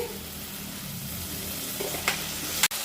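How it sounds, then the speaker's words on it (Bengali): Puti fish fries lightly in a pan over raised heat with a soft continuous sizzle, broken near the end by a couple of sharp clinks or scrapes. "হালকা করে ভেজে নিতে হবে আঁচটা আমি কমিয়ে দিয়েছিলাম এখন বাড়িয়ে দিয়েছি"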